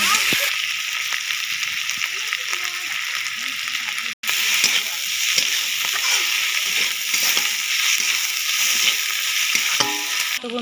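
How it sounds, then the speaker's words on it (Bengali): Dried fish frying in a pan makes a loud, constant sizzle with crackling spatter and occasional stirring, continuous for several seconds, with some voices present. "আর দিয়ে দেবো শুকনো মাছ। এটা ভালো করে ভেজে নেব"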